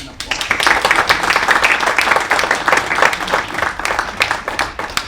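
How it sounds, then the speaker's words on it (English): Audience applause at the Balkan New Film Festival in Stockholm, a dense steady clapping from a crowd that holds for about five seconds, with faint voices mixed in. "Please, an applause."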